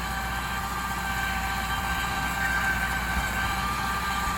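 A tractor pulling a 48-blade rotavator through a field, its engine giving a loud, steady drone close by for the whole stretch with no voices.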